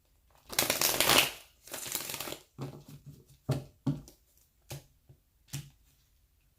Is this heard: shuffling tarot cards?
yes